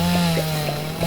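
A chainsaw cuts wheat in the video game Dinkum, a loud steady motor drone with a few soft rhythmic swishes of stalks being cut.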